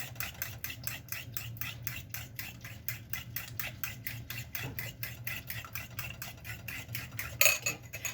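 A whisk beats French toast batter in a bowl with quick, even strokes of about three per second that tick against the bowl, quiet and close for about eight seconds.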